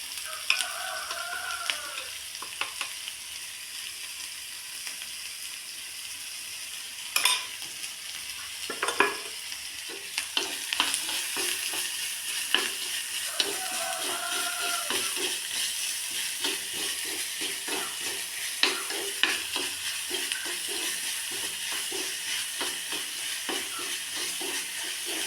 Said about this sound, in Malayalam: സവാളയും അതേപോലെ ഒരു പച്ചമുളക് കീറിയതും ഇട്ട് കൊടുക്കുക. നന്നായി ഒന്ന് വഴന്ന് വരട്ടെ.